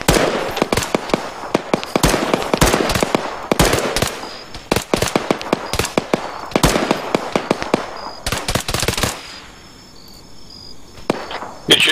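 Rapid bursts of automatic rifle gunfire in the military shooter Arma 3, sharp cracks in clustered volleys across the clip, loud and close, with a brief lull near the end.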